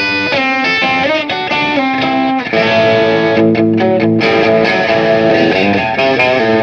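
Electric guitar with a light overdriven crunch, strummed chords ringing out loud and sustained, no voices.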